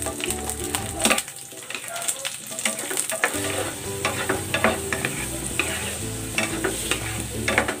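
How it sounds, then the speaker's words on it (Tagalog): Garlic frying in hot cooking oil sizzles loudly and steadily, broken by frequent scrapes and clinks of stirring. The sound is close and continuous and has no talk over it. "Ipiprito ko muna dito itong bawang para mag-brown at ma-infuse yung flavor nito"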